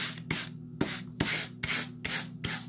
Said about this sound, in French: je vais juste nettoyer un peu avec ma petite brosse. Excusez pour le bruit.